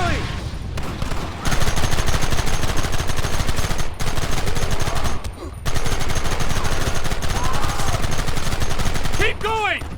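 Dense gunfire in the Red Dead Redemption video game, loud and sustained for about ten seconds with rapid overlapping shots, briefly dropping near the one, four and five-second marks before continuing.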